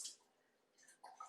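Running water rinses something under a kitchen faucet, faint and close, with brief splashing bursts at the start and toward the end.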